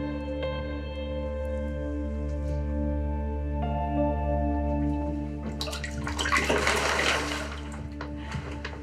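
Water in a bathtub as a child rinses off, a steady running-water hum with a louder burst of splashing and sloshing near the end.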